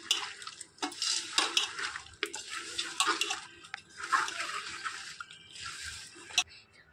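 Raw chicken for dum biryani being mixed with ginger garlic paste, coriander, mint and curry leaves, giving wet squelching and slapping sounds in irregular bursts, close by and moderately loud, with a voice talking at times.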